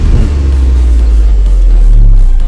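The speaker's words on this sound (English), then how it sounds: "So you can see the engine is on," Engine of a Hyundai i20 car idling after a push-button start, a loud, steady low rumble recorded up close with a slight rise in revs near the end and no talking.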